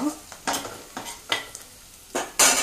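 Whole spices, cinnamon, cardamom and cloves, fry in a pan for a gravy curry as a spoon stirs them in repeated scraping strokes, with a soft sizzle beneath and a louder final scrape, close up and without talk.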